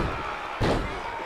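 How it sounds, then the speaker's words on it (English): A single sharp slam lands as a wrestler's head is driven into the ring mat during a wrestling match, cutting through a steady background of arena noise. "Bruno now just slamming repeatedly Jet Mulligan's head into the mat."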